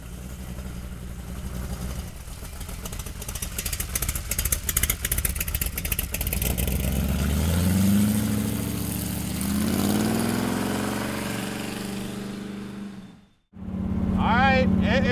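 1931 Ford street rod with side pipes idling loud and close, rough rumble with blips of revving and pitch swells; the engine cuts off abruptly near the end, then restarts and settles into idle.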